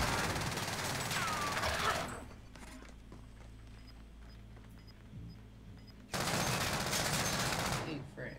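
Rapid automatic gunfire in Call of Duty Warzone, loud and dense in two bursts separated by a few seconds of quieter background.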